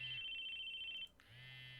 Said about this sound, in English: Not only was my phone going off, but even though I was sure I'd set it to vibrate, the ringtone was going off too.